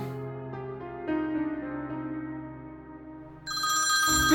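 A telephone rings with a tonal electronic ringtone that swells and changes pitch, growing brighter and louder toward the end, with no talk over it.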